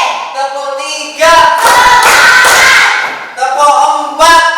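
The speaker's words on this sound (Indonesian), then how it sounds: "sekarang kita bertepuk tangan" Hands clapping in a classroom counting exercise, sharp claps mixed with a voice speaking between them, a dense burst of claps in the middle and a few single claps near the end.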